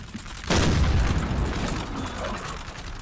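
Massed infantry musket fire crackles in a Napoleon: Total War NTW3 mod online battle, a sudden loud volley that trails into a rolling, rumbling spread of shots.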